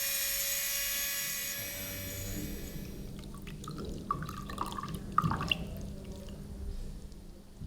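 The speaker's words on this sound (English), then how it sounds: "Inlaying with hammer and chisel is one of the most cathartic parts of the work." Hammer and chisel inlaying scagliola marble: a few faint, sharp taps and knocks cluster in the middle of a quiet stretch, with a steady background hiss.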